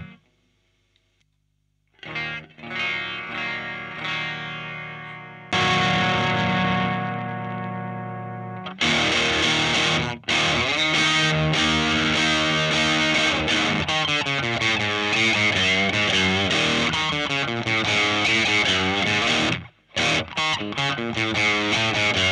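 Electric guitar run through a Wampler Sovereign distortion pedal with the gain turned to maximum, heavily saturated chords and sustained riffs ringing loud and thick after a quiet start, with brief pauses between phrases and no talking.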